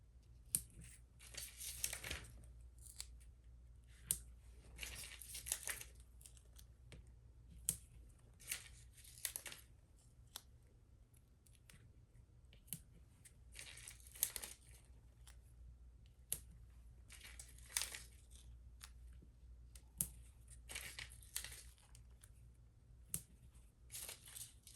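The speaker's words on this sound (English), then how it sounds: "add tape to the back" Foam tape peeled and pressed onto the back of a paper ivy leaf layer for a card: faint, intermittent crinkles and short tearing bursts separated by quiet gaps, with no one speaking.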